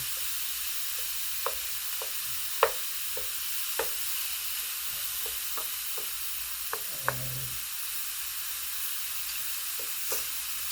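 Oil sizzles faintly in a pan for a crab omelette, a soft steady frying hiss broken by scattered light pops and taps as it is stirred, with no one talking.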